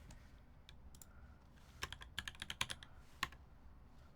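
Quiet keystrokes on a Victus Sin keyboard with a brass plate and DS White Jade switches, starting sparse and then turning into a quicker burst of crisp clacks before trailing off.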